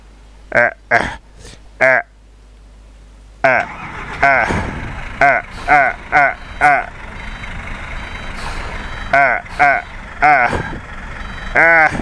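A truck in Euro Truck Simulator 2 hums at low engine revs while reversing on a bridge, with repeated loud, evenly spaced reversing beeps in clusters and people talking over it.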